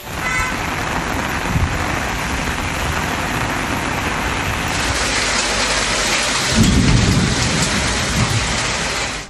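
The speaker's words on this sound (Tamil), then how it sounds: "நேற்று இரவு கனமழை கொட்டியது." Heavy night rain pours steadily in Tamil Nadu, a dense, loud hiss throughout, with a deep rumble of thunder swelling near the end.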